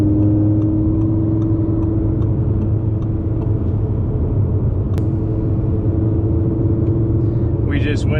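A 2017 Vorsteiner Audi R8 engine idles in neutral with a steady low rumble and hum, loud and continuous throughout, with a faint rattle near the end.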